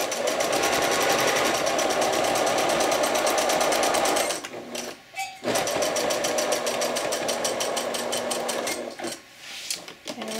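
A sewing machine stitches ruffles onto a bib apron in fast, rhythmic bursts, running steadily for several seconds, pausing briefly, then starting again with the same rapid mechanical chatter.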